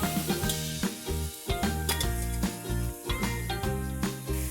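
Boiled chickpeas, cooked with salt and turmeric, frying with onions in a pan, giving a steady sizzle broken by the repeated scrape and clatter of stirring, close and fairly loud, with no talk.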